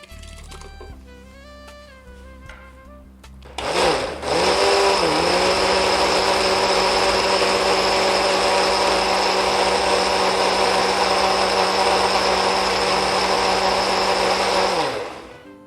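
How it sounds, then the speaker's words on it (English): Blender pureeing red bean and tomato soup, starting after a few seconds of quieter background with a spin-up. It then holds a loud, steady whirring roar for about ten seconds before winding down, with no talking. "take it to my blender and I'll puree to a nice smooth consistency"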